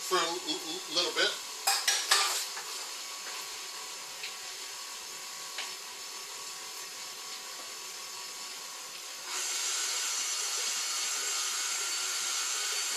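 Bread batter for orange cranberry bread being mixed in a bowl, starting with a few sharp clanks and scrapes, then a steady whirring churn that gets a little louder near the end, with no talk.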